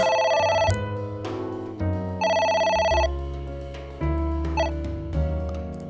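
A phone rings inside the video game A.I. The Somnium Files, a loud, clear synthesized melodic ringtone repeating in steady tonal phrases with no talk over it.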